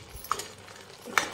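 A spoon stirs fried eggs into chilli gravy for an Indian egg chilli, with soft scraping and two quick metallic clinks against the pan over a faint background hiss.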